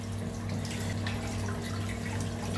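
Frozen chicken gizzards and liver rinsed under running tap water in a home kitchen, a steady, continuous splash and trickle with no pauses or talking.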